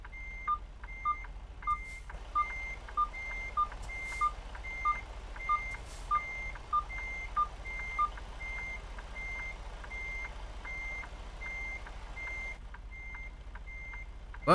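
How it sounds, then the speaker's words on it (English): A truck's reversing proximity sensor in American Truck Simulator beeps steadily about twice a second, clear and mid-loud over a low idling engine rumble, with no talk. "That thing is beeping because it's sensing the containers over there."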